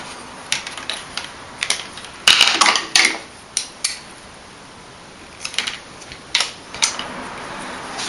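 Sharp clicks and snips of a blade cutting a urethane pulley belt, a short irregular cluster of close, crisp cuts with quiet pauses between them and no talking.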